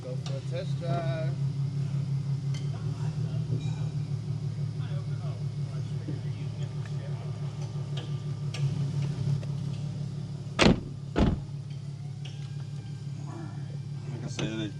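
A tuned Nissan 370Z runs with a steady low engine drone through the whole stretch, broken by two sharp, loud pops close together near the end.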